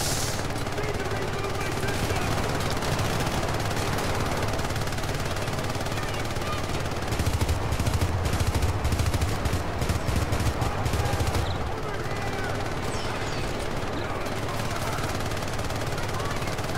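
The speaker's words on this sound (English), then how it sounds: "Who's shooting?" Gunfire in the game Syndicate: steady, fairly loud automatic fire rattles almost without a break over a continuous rumbling background, growing more intense for a few seconds midway before settling back.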